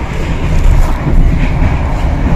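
A business class carriage of a long train rolling on rails, with a loud, dense rumble and rattling throughout and no one speaking.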